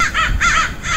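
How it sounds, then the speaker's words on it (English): A large group of crows caws loudly and close by, three harsh repeated calls in quick succession with no voices. "this is the first time I've seen that many crows in a row"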